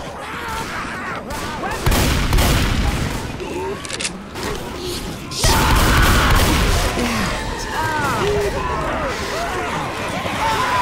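Shotgun blasts and other gunfire crack repeatedly in the Left 4 Dead 2 video game, loud and close, mixed with game chaos while people talk over it.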